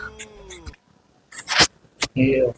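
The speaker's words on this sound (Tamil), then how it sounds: "அங்க பாரு பூனை" A cat meows in short, wavering cries while people talk loudly around it, with bursts of voices between the calls.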